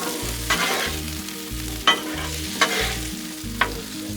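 Vegetables frying in bacon grease on a Blackstone griddle, a continuous close sizzle broken by rhythmic scraping strokes and several sharp spatula clacks as they are stirred and spread out; no talking.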